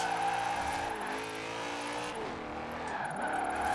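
A modified family SUV drifts in Forza Horizon 4, its engine droning and revving steadily while tyres squeal and the pitch dips and climbs as the car slides, loud and continuous throughout.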